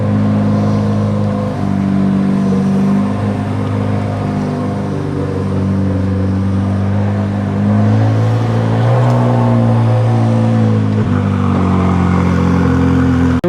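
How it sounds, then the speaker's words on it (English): A Chevrolet Corvette C8 Z06 engine idles and revs on its first drive, a loud, steady low rumble with strong harmonics that rises and falls as the throttle is blipped, close to the car with no talking. "Here we go, first drive in the Z06."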